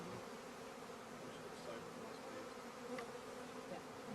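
Steady, dense buzzing of many honeybees close by in an open hive, a continuous droning hum with no voices.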